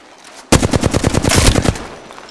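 Automatic gunfire in Apex Legends bursts in suddenly after a short quiet moment, a loud, close, rapid string of shots lasting over a second before it tails off.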